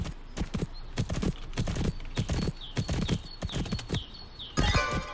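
Horse hooves clip-clop in a steady, brisk rhythm in a riding video game, close and clear, with a short neigh near the end.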